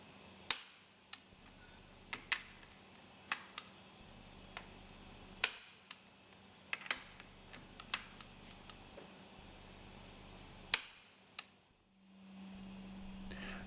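Nuts being tightened on a marine diesel engine cylinder cover: a string of sharp metallic clicks and ratchet-like taps, irregularly spaced, close by, over a low steady mechanical hum, with no talking.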